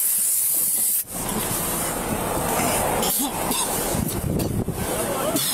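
A police officer fires pepper spray at a man after a car crash, a loud, sustained, harsh hiss that starts abruptly and runs on with brief dips, with voices mixed in.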